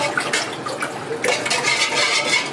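Cleaning solution being stirred into a pot of warm tap water, a continuous splashing, sloshing liquid sound heard up close without speech.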